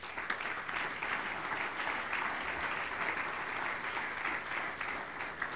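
A conference audience gives steady, sustained applause. The even clapping fills the room for several seconds and no one speaks over it.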